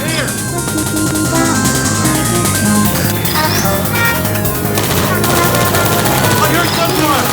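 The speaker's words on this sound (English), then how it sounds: "I heard gunfire!" Rapid bursts of gunfire in Portal 2 crackle over a dense, loud soundtrack of music and effects, with shots rattling in quick succession.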